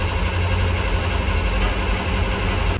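A rough, worn-sounding engine on rail equipment with an air brake system runs steadily and close, a low rumbling drone under hissing broadband noise with a few brief higher clicks.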